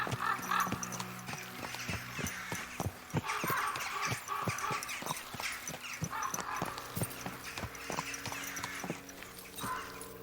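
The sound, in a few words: deer hooves walking in video game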